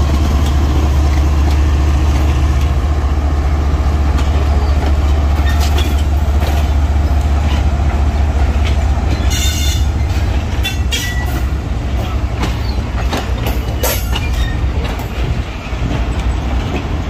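The Millat Express rolls through Karachi Cantt railway station on its inaugural run, a loud, continuous rumble of wheels and engine with rattling wagons and intermittent clicks, close and sustained throughout.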